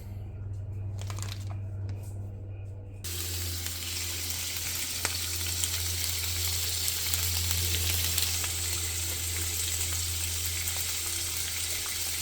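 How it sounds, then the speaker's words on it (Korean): Raw duck meat sizzles and crackles in a hot pan, a steady close frying hiss with scattered pops, starting after a brief quieter moment with low background hum. "생 오리고기 사서 이렇게 구워주면 되고요"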